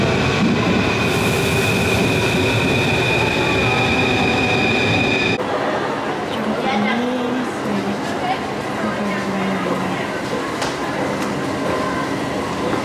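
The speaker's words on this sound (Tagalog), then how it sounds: "So, ayan na yung train." A train pulls into a European station with a loud rumbling roar, metallic screeching and squealing wheels as it slows, under a busy platform ambience where people talk nearby.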